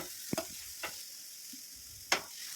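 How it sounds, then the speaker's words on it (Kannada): Chopped spinach (palak) frying in a home kitchen pan, a soft background sizzle punctuated by a few sharp scrapes and knocks of the spoon as it is stirred, quiet and close with no talking. "ಪಾಲಕ್ ಸೊಪ್ಪನ್ನ ಕಟ್ ಮಾಡಿ ಇಟ್ಕೊಂಡಿದ್ದೆ, ಅದನ್ನು ಹಾಕ್ಕೊಂಡು ಫ್ರೈ ಮಾಡ್ಕೊತಾ ಇದ್ದೀನಿ."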